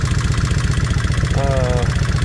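Vulcan 1600 motorcycle engine idles with a loud, even low thrum and rhythmic tapping from a rear-cylinder rocker arm, with a brief tonal whine partway through.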